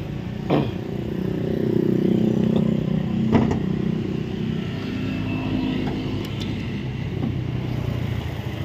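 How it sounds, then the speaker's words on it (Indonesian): A 2016 Toyota Camry 2.5 G automatic engine idles smoothly and steadily throughout at close range, with a few faint clicks and clatter over the even low hum. "Ini mesin bunyi ya, halus"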